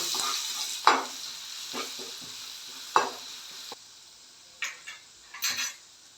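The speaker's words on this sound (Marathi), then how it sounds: "फोडणी ढवळून घेते आहे" Hot oil sizzles steadily with a tempering of dried red Byadgi chillies while a spoon scrapes and clinks against the pan several times, with a few sharper stirring knocks near the end.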